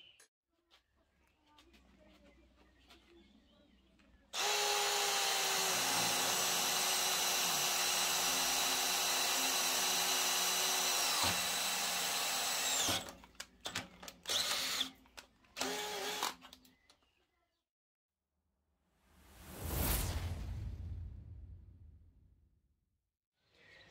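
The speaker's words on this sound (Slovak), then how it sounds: "Začíname teda vŕtaním otvoru do ocele o priemere 8 mm." A cordless drill, a Milwaukee M18 CBLDD or Dewalt DCD 790, whines loudly at high speed drilling an 8 mm hole in steel, then sputters in short bursts and stops; a brief rising whoosh follows after a pause.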